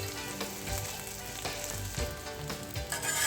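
An aloo cheese paratha fries in ghee on a flat pan, giving a steady, close sizzle with soft scraping and flipping sounds, and no voices.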